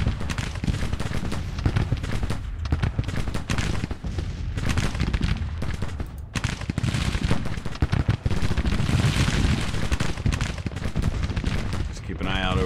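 Continuous volleys of musket and artillery fire in the American Civil War strategy game Grand Tactician, fired on a battalion during Sherman's Atlanta campaign, a dense, rumbling barrage running steadily throughout with booms mixed in.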